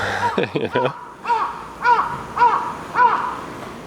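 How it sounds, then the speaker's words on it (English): A crow caws beside a quiet roadside walk in Fukuoka. Four harsh, evenly spaced caws ring out fairly close, about half a second apart, after a short burst of other sound at the start. "My biggest noise problem right now is a crow"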